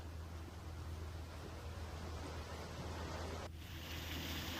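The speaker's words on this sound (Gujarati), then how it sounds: "અહીંયા ગાજવીજ સાથે ધોધમાર વરસાદ ખાબક્યો।" Heavy rain with thunder pours down over Vadodara district, Gujarat, in a steady, dense hiss with a low rumble underneath, shifting slightly in tone near the end.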